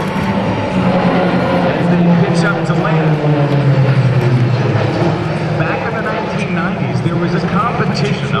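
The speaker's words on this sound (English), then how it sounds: "Here come the T-6 Texan IIs" Hawker Beechcraft T-6 Texan II trainer aircraft pitch up to land at an airshow, their steady engine drone running continuously under a loud announcer's voice.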